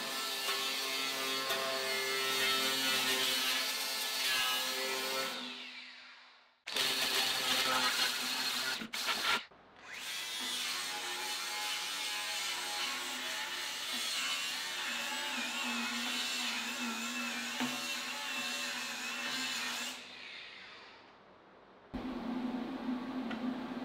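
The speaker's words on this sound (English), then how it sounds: "I'm actually gonna start by leaving it right here and getting the grinder in here and cleaning all this out" Grinder cleaning dirt out of the inside of a Kubota loader bucket, a loud continuous abrasive whine running in long bursts with brief stops and restarts, close up and without talking.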